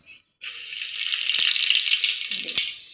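Cumin seeds dropped into hot oil in a home kitchen burst into a loud, steady sizzle after a brief quiet start, crackling continuously with a couple of faint clinks.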